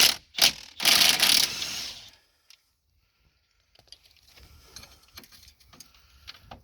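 A ratchet socket wrench clicks rapidly while loosening the front strut nuts on a Dodge Caravan. Two loud, close bursts of ratcheting are followed by quieter scattered clicks and rubbing.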